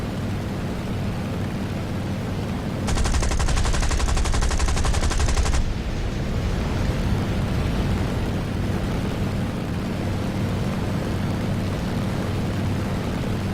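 Aircraft cannons fire in War Thunder VR strafing practice: a dense, loud, rapid burst of about three seconds over a steady engine drone, which continues alone afterward.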